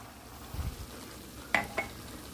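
Coconut milk poured into a pan of simmering snails, giving a short stir-and-sizzle of liquid hitting hot food, followed by two sharper clinks of utensil on pan, all faint and with no talking.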